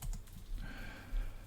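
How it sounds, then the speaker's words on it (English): Typing on a computer keyboard while setting up WordPress on an Antsle server, a short burst of soft, close key taps in quick succession. "Typing in the wrong window."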